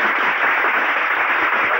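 An audience in a Turkish nightclub applauding a singer, a dense, steady wash of clapping that stays loud and even for two seconds with no voices on top.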